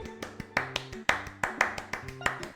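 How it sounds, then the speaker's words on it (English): Quick, close hand claps in a lively uneven rhythm, over a faint musical backing with steady tones underneath. "There, I clapped because it didn't do the thing."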